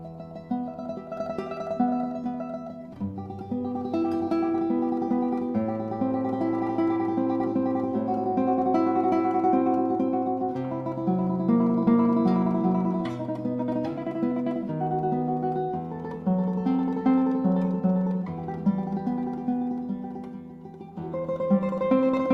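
Classical guitar played alone with a fast tremolo, rapidly repeated treble notes carrying a melody over plucked bass notes, steady and flowing.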